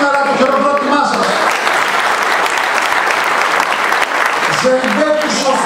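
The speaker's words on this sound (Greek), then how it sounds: "το χειροκρότημά σας." An audience at a municipal ceremony in Veria, Greece, applauds steadily and loudly for several seconds. A voice talks over the clapping at the start and again at the end.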